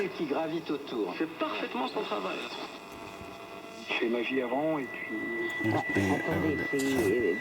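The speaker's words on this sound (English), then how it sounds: "Now the whistling is from the actual interference from the video camera." Long-wave broadcast of a talking voice on a Roberts R200 radio, with a steady, thin high-pitched whistle of interference from a nearby video camera running underneath throughout.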